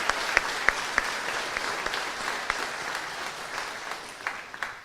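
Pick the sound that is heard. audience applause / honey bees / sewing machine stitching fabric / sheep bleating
audience applause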